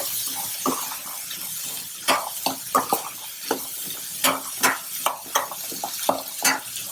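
Black chickpea sundal being stirred and mixed with salt, a spoon knocking and scraping against the vessel in a steady run of clinks and scrapes, close and clear, with no voices.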